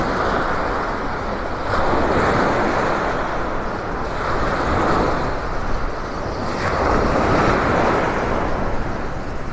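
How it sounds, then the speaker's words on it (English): Rough ocean waves surge onto the sand at Delnor-Wiggins beach on the Gulf coast, a loud, continuous broadband wash that swells and recedes in slow rolling pulses. "Beautiful but rough, which means our beach is getting eroded by these waves."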